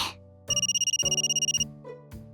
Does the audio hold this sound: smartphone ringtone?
yes